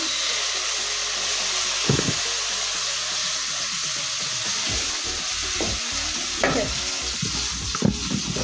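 Tomato added to a pan where fish is shallow frying gives a continuous close sizzle with occasional stirring clatter and scrapes.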